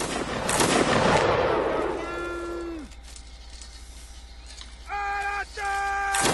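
Broadband rumbling gunfire volleys from a video game line battle dominate the opening seconds, fading into a quieter stretch that is followed by short, repeated tonal horn-like blasts.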